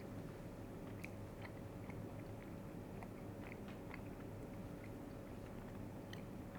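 Chewing on an Eatmore toffee peanut candy bar, with soft, sticky mastication clicks and squishes repeating close to the mic over a steady low background hum.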